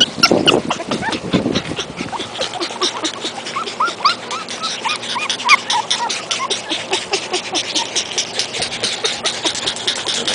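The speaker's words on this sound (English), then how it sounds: "Checking out the puppy." Bugg puppies, a pug and Boston terrier mix, whimper in a steady run of high, thin whines outdoors on a hot day, with a low engine idling underneath throughout.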